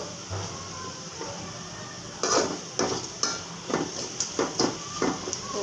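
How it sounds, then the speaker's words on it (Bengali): Cumin and panch phoron spices frying in a pan: a faint background sizzle under a run of sharp metallic scrapes and knocks from a spatula, fairly close and growing busier toward the end. "জিরা কয়েকটা পাঁচফোড়ন দিয়ে আমি ভালো করে ভেজে নেব পাঁচফোড়নগুলো"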